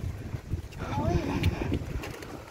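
Wind gusts buffet the microphone outdoors on a long mountain hike, a steady rushing rumble that rises and falls close up, with people talking over it.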